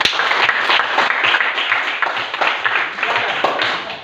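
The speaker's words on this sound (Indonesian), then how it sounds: "Oke, tepuk tangan dulu ya." Steady applause from a crowd at a university classroom presentation, dense clapping sustained throughout without pause, fairly loud and close.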